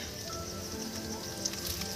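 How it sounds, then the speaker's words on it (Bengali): Potatoes for a meat curry fry over a wood-fired clay stove, giving a faint, steady sizzle with a soft crackle throughout. "এখন আমাদের মাংসের আলু ভাজা হচ্ছে"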